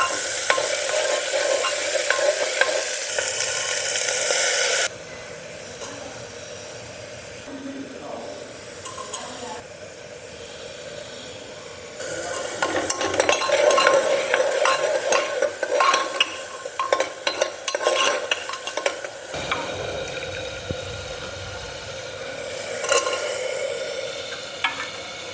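Meat and cabbage curry being stirred and fried in a home kitchen, with sizzling and scraping spoon strokes that rise and fall across the clip, loudest in bursts near the middle, with some talk in the background.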